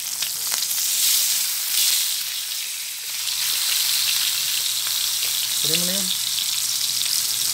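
Fish frying in its own released oil on a grill made from an old pot lid, a continuous close crackling sizzle with occasional spatters, while a voice speaks briefly partway through.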